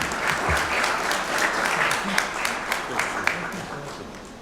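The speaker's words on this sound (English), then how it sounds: "deserve your appreciation with a round of applause" A round of applause at a city council meeting fills the room, many hands clapping steadily in a dense, sustained patter with a few sharper claps standing out.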